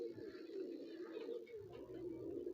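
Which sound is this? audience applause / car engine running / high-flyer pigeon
high-flyer pigeon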